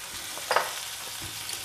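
Ground pastes of onion, ginger, garlic and green chili fry in a pan for a Bengali-style pointed gourd dish stuffed with chicken, giving a brief, soft, steady sizzle with a small crackle.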